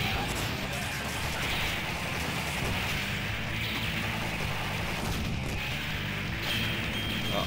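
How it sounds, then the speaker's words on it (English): Cannon fire in the Metal Slug 5 video game comes as dense, repeated blasts and booms over a constant stream of game noise, loud and busy throughout. "I still had cannon ammo."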